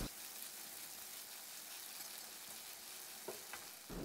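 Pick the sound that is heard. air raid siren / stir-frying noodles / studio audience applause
stir-frying noodles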